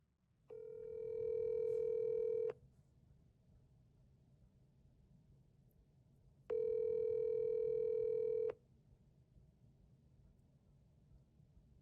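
An outgoing phone call rings out through a phone speaker: two long, identical electronic ring tones about two seconds each, separated by a pause of silence, with faint room noise and no talk.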